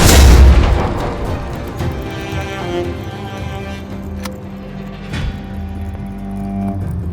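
A copperhead drone blows up in the City of Springs action game. A heavy booming explosion opens the clip, loud and deep, then falls away into a long rumbling, crackling tail with scattered metallic pops and debris.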